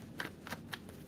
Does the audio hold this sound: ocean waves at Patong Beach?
no